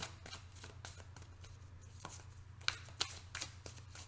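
Tarot cards are shuffled and pulled from the deck, soft riffling slaps and flicks arriving in quick uneven bursts, close and quiet, with a couple of sharper snaps near the end.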